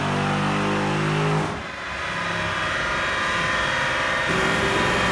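A 6.1 liter HEMI V8 roars on a chassis dyno under nitrous at wide open throttle, a loud steady engine drone with a brief dip in pitch partway through before it climbs again.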